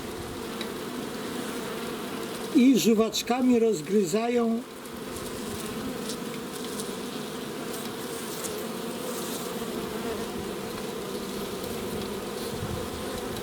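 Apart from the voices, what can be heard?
honeybees buzzing on the hive bottom board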